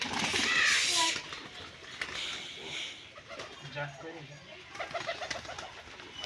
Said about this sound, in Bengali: এই যে দেখছেন হলুদ চোখে সবুজ মাদি পায়রা